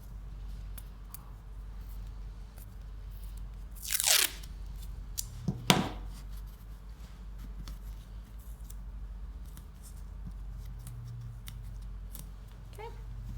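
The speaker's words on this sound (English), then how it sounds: "Grab our handy dandy stretchy tape." Stretchy tape pulled and torn off for Valentine's Day decor made from Dollar Tree books, with two sharp, close rips around the middle of an otherwise quiet stretch that has a low background hum.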